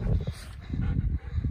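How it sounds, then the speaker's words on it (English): A dog playing with kelp on the rocky coast of Maine, making short low growling and snuffling bursts close by in quick irregular succession. "Dog with kelp."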